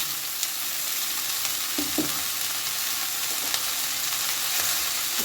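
Fenugreek leaves, freshly washed and chopped, frying in a pan for methi paratha, giving a steady close hiss of oil with a few soft stirring scrapes, no voices.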